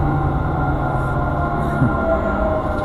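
Steady rumbling roar of a Dubai Metro train rolling along the track near Emirates Towers station, continuous and fairly loud throughout with a faint metallic squeal.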